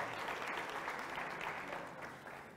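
A conference audience at the 23rd Annual Congress of AMESA applauds loudly and steadily, the clapping tapering slightly toward the end.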